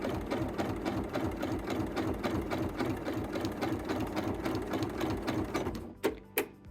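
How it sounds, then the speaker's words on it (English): A sewing machine with a dual feed foot runs a serpentine decorative stitch, a fast even mechanical chatter close by that continues steadily before stopping, followed by a couple of short clicks. "can just use the edge of our foot and sew along with our serpentine stitch"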